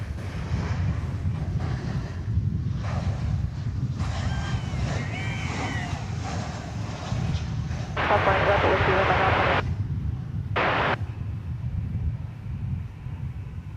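A Reno Air special livery airliner at DFW Airport gives off a steady jet engine roar that swells at times, heard from a spotting position. Someone talks over it throughout.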